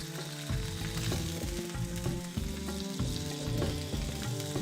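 Fish fries in oil in a pan over a slow fire, giving a steady close sizzle with a constant crackle, while background music plays throughout.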